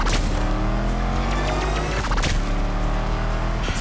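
In the NFS Unbound racing video game, a car engine roars continuously and loudly, with revving and gear shifts, blended with synced hip-hop style samples that follow the engine.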